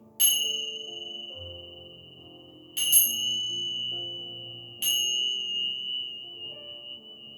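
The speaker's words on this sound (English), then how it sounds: "absorb the vibrations of the bells, bringing your own energies to its appropriate frequency" Three struck meditation bells ring out at even intervals during a yoga relaxation, each clear metallic strike followed by a long sustained ring that slowly fades, layered over soft, low ambient tones.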